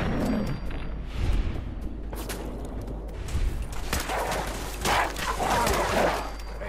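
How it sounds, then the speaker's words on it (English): Hostile dogs in Fallout 4 bark and snarl in rough bursts amid loud gunfire and combat noise. "Puppies."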